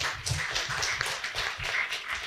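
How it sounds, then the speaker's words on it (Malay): An audience at an evening religious talk claps for the panel of speakers, a brief, moderate patter of scattered handclaps that stays fairly even, with no voice over it. "bagi tepukan sikit pada ahli panel kita"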